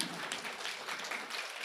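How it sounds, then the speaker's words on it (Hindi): Faint, distant applause for children at a school prize-giving ceremony, a thin, steady patter of many hands clapping without voices. "प्लीज़ बच्चों के लिए तालियां बजाएं।"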